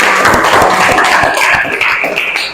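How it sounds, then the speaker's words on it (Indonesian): A gathered group at a morning session claps together in a steady, dense burst of applause, close and loud, continuing for the whole stretch with no speech over it. "Oke, aplaus dulu buat kita semua"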